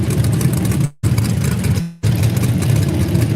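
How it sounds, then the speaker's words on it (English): A loud Chevy mud bog race truck engine revs hard at the Orangeburg mud bog, a sustained low roar broken by two brief dropouts. "That is pure horsepower right there."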